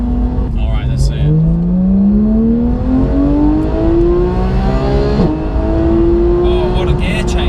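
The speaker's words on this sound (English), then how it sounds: "The gear shifts are insane, aren't they?" A Porsche GT3 engine revs hard under acceleration, its rising whine climbing steadily before a quick gear change near the midpoint, then pulling upward again; loud and close, with a voice briefly heard.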